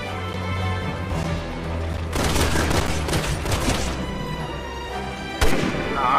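Bursts of rapid gunfire crackle from the video game Resident Evil 6 for a few seconds over a steady droning background, ending with one sharp loud shot.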